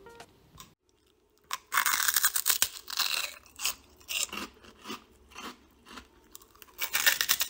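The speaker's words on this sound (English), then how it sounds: "So that just shows how crispy the prawn crackers were" Crispy prawn crackers from a Chinese takeaway are crunched close up, with loud brittle bites and chewing crackles in repeated bursts separated by short pauses, and no talking.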